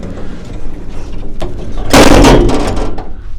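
An elevator door is slammed shut with a loud, close bang after a lighter knock, followed by a short rattling decay.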